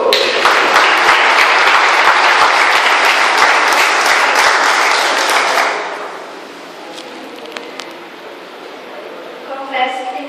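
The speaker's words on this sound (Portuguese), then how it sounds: "Uma salva de palmas mais uma vez." Wedding guests break into loud, dense applause for the couple's daughter as she steps up to speak, clapping strongly for about six seconds before it fades into quiet room murmur.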